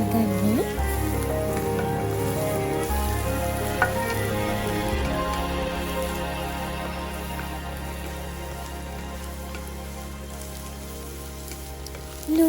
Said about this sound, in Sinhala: මේ ටික හොඳට තෙම්පරාදු කරගන්න.